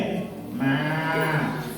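In a government school classroom in Dindigul, children's voices imitate a cow's moo together: a short, drawn-out, wavering call lasting under two seconds, close and fairly clear.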